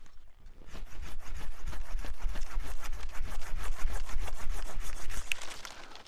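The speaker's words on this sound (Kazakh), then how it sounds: "Ара өте жақсы ара. Силки деген Жапонияның арасы." Japanese Silky pruning saw cutting through an apple tree branch outdoors, a close, rhythmic run of rasping strokes in quick, even succession.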